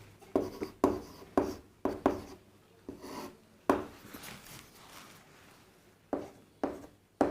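Writing on a board during a class, with sharp, close scratchy strokes and taps arriving in irregular bursts and short pauses between them, and no voice over the writing.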